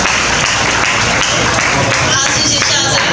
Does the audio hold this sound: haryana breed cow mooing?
no